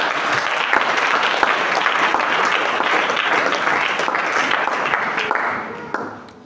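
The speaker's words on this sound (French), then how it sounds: "Si tu es avec moi, acclame très fort le Seigneur." A church congregation breaks into loud, sustained applause and cheering during a sermon, a dense wash of clapping that fills the room and fades away near the end.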